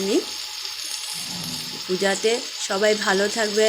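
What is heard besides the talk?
pointed gourd frying with salt and turmeric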